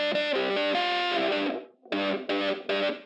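Electric guitar with a doubler and only a tight room reverb; a long distorted chord, a brief gap, then three short punchy stabs, loud and alone.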